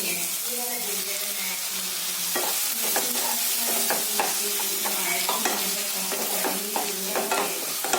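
Chopped tomatoes dropped into a pan of cooked onions for a vegetable masala curry, giving a soft steady sizzle with scraping stirs and clinks of a spoon against the pan, close and moderately quiet.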